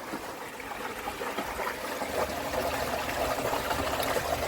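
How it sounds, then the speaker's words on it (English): Water pumped from a pond into a filter drum, a steady close trickling and splashing that grows slightly fuller as the drum fills, with no talk. "Drum is filling up."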